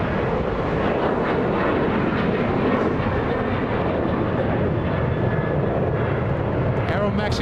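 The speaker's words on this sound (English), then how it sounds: "Looks like we have a 787 heading to the south side." A Boeing 787 Dreamliner jet flies past at Los Angeles International Airport, a loud, close, rushing engine roar that stays strong throughout, with talk heard over it.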